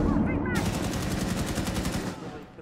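A teammate fires an automatic rifle in Rainbow Six Siege, a rapid, evenly spaced burst of shots lasting about two seconds, close and loud, trailing off into quiet.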